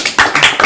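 A church congregation applauding, a short burst of close, loud overlapping claps in quick uneven succession.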